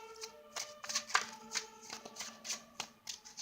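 Tarot cards being shuffled by hand in a quiet room, a quick irregular series of crisp riffling and slapping bursts, close and fairly soft.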